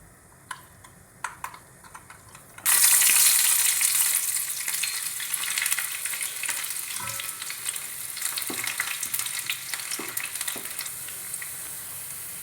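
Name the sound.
chopped onion frying in hot oil in pan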